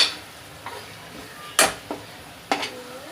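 A spoon stirring coriander powder, turmeric and dried fenugreek into spinach dal in a metal pot, a few distinct scrapes and clinks against the pot, sparse and close with quiet gaps between them.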